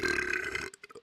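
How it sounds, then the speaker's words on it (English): One long, loud, close burp lasting most of a second, followed by a few short breathy sounds. "That's my good luck burp."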